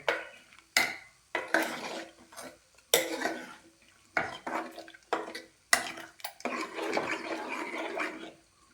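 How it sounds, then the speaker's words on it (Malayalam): A spoon stirs dried fish sambar with turmeric and salt in a pot, making several separate bursts of scraping and clanking close by, broken by short pauses. "നമുക്കൊന്ന് ഇളക്കി കൊടുക്കാം കേട്ടോ"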